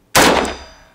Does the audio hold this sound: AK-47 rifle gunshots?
yes